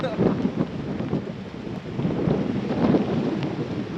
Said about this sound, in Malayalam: അന്യായ കാറ്റാണ് പെട്ടെന്നുള്ള മഴയാണ്